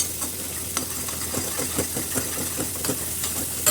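Masala roasting in oil in a pan for Kolhapuri mutton rassa: a steady close sizzle and crackle, with soft rhythmic stirring scrapes throughout and no talking.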